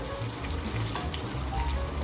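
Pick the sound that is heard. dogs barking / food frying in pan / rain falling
food frying in pan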